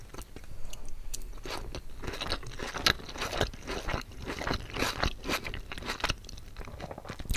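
Close, wet chewing and crunching of homemade beef cooked with onions, with steady, rhythmic bites and occasional louder crunches and no talking.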